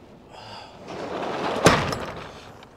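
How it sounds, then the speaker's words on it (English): A roll-up door on a semi truck trailer being worked during a pre-trip inspection, with a rising rattle and one sharp, loud slam or latch thud near the middle, close by and with no talk. "This is a roll-up door."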